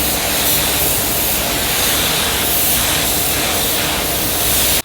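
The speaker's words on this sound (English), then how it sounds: "we need to go ahead and spray the paint on the diffuser section of the JDM rear" Black spray paint applied to the diffuser section of a JDM car rear bumper: a steady, loud, close hiss of continuous spraying that fills the whole stretch without pause.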